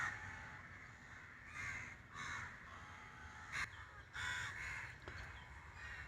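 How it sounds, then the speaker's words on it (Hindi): Crows caw repeatedly in BPT Park in South Mumbai, several harsh calls spaced a second or so apart over a steady outdoor hum, moderately close and clear. "पक्षी चहचहा रहे हैं।"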